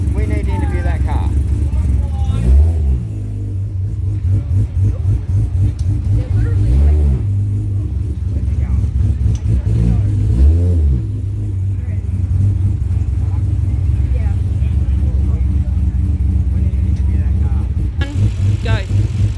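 A modified ethanol-fuelled car idles with a heavy, lumpy rumble at a car meet, with three sharp revs rising and falling over the uneven idle as people talk nearby.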